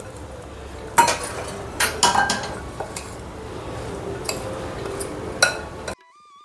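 A spoon scrapes and clinks against a pan while chopped mango pickle is stirred to coat it evenly, giving several sharp metallic knocks spaced over a soft background hiss, close and clear with no talking.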